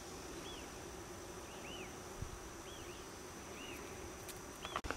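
Bees buzz around flower buds in Argentina, their faint hums looping past every second or so over a quiet outdoor background, ending with a brief bump of handling noise.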